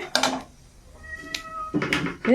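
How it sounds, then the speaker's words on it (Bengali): A cat meows close by in a home kitchen where fish is being fried, giving a few short, distinct meows separated by quiet pauses. "দেখ, বিড়ালটা এসে গেছে, দেখেছিস?"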